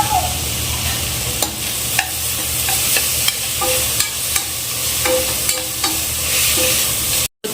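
Vegetables with salt stirred and frying in a pan for a simple kids' pulao, a steady close sizzle punctuated by regular spoon taps and scrapes against the pan, ending abruptly.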